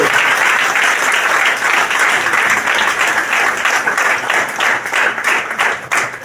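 Sustained applause from a large church congregation, dense and steady clapping throughout with no voices standing out.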